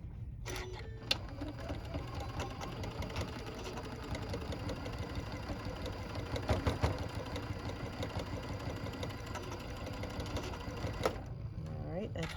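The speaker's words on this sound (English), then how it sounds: "go across, sew across that box corner" A sewing machine stitches across the box corner of a fabric reusable microwave popcorn bag, running as a steady, close mechanical whir for the whole stretch and stopping near the end.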